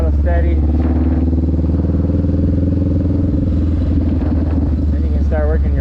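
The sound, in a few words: motorcycle riding circles with steady throttle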